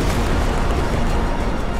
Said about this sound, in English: an Austrian ammunition wagon is hit and detonates in